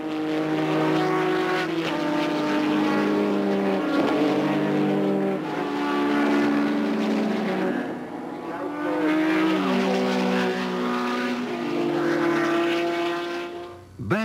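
Race cars in a long-distance race, loud engines roaring past one after another with rising and falling pitch and gear changes, continuous and close throughout.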